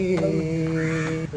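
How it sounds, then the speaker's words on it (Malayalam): A single drawn-out crow caw, loud and nearby, held for just over a second. "കാക്കി ഇങ്ങനെ കിടന്ന് കരഞ്ഞപ്പം ഞാൻ വിചാരിക്കായിരുന്നു ആരാ വിരുന്നുകാരിന്ന്"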